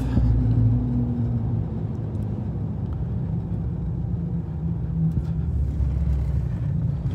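A pickup truck engine with a cold air intake and muffler delete: a deep, loud, continuous rumble that stays fairly level throughout, with no talking.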